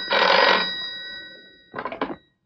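An old-style telephone bell rings indoors in a 1970s Hindi feature film: one long, loud, jangling ring, a pause, then a shorter double burst, with no voices over it.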